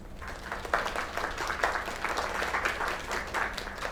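Applause from an in-game audience in a PS5 game, a steady crowd of clapping hands held for several seconds at moderate distance, with no voices over it.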